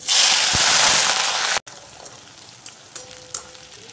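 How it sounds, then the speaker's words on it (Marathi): A loud, hissing sizzle of thinly sliced, wet vegetables deep frying in hot oil fills the first part, then drops to a quieter bubbling with occasional pops. "त्या सर्व भाज्या तळून घ्यायच्या."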